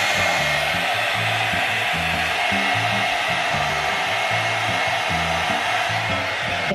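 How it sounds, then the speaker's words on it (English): A hair dryer on high heat blows steadily and loudly while a bristle brush works through sections of hair, the airflow pulsing in a regular rhythm as the brush passes, with no talking. "run through segments of hair with a bristle brush with the heat turned on high"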